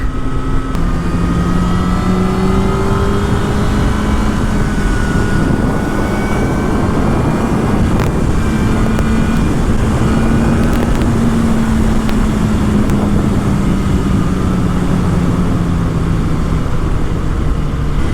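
A Kawasaki ZX-10R motorcycle engine drones steadily while riding, its pitch rising and falling gently as the throttle opens, with constant wind rush throughout and no speech.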